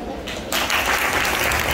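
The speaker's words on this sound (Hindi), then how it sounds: "जोरदार तालियों से जो है हौसला अफजाई कीजिएगा।" Audience applause at a Teacher's Day speech event starts abruptly after a brief quieter moment and continues as dense, steady clapping.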